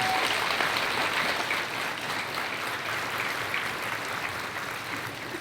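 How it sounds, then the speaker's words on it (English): An elementary school audience at a Veterans Day program gives veterans a sustained round of applause, dense and even, filling the room for several seconds. "let's give our veterans a big round of applause"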